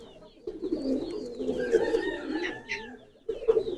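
Close, loud cooing from a champion tournament pigeon, one long rolling phrase followed by a short pause and another coo starting at the end.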